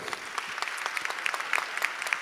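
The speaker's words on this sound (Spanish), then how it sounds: "para los cuales pedimos un fuerte aplauso" Audience applause at the inauguration of a plenary conference, a steady wash of many hands clapping with scattered sharper claps standing out, moderately loud and continuous without talk.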